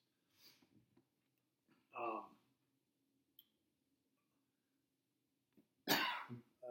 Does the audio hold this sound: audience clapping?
no